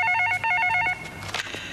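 A telephone rings in short trilling bursts for about a second, close and clear, before fading into background sound.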